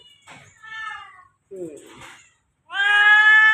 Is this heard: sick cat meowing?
yes